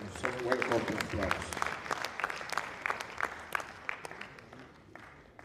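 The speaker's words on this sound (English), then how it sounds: "Let's give Mr. Pemagui some welcome applause" An audience in a presentation setting breaks into scattered, continuous clapping that welcomes a presenter, moderately near, with some voices murmuring underneath.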